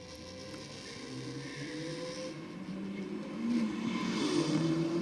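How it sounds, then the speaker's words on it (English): A Toyota Corolla engine drones and builds at a Sydney Dragway night drag race, a steady moderately distant roar that swells louder toward the end. "Not a bad light for the Corolla in the rocket lane"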